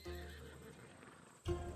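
Macedonian war horse from the video game Assassin's Creed Odyssey, a single faint whinny followed by a short snort or clop near the end, quiet and alone.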